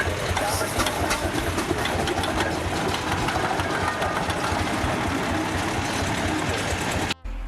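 A heavy multi-ton steam engine runs steadily with dense, continuous mechanical churning and a fast rhythmic clatter, loud and close throughout, briefly cutting out near the very end.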